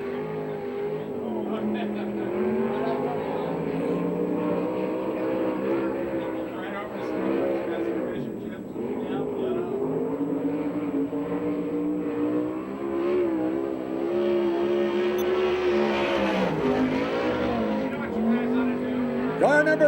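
USAC/CRA sprint cars racing on a track at Phoenix, Arizona, their engines droning loud and steady with rising and falling pitch as they lap, under continuous announcer speech.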